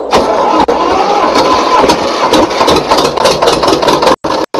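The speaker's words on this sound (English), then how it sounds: "Now, this is a tractor, I guess. And this forage harvester hooked up." A tractor engine with a forage harvester hooked up starts and settles into a loud, steady mid-pitched running rumble, close to the listener.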